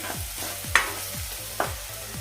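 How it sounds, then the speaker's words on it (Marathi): Gram flour (besan) being sautéed with okra in a pan: steady close sizzling and frying with the rhythmic scrape of a spatula stirring, plus two light clinks against the pan. "बेसनचा कच्चेपणा जाईपर्यंत त्याला परतायचं आहे"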